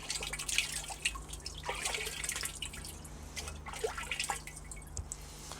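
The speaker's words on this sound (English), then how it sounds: "As it's raining outside, I'll just show the water coming into the water butt." Rainwater runs and drips into a garden water butt during outdoor rain, a steady faint trickle dotted with irregular splashy drips and no talk.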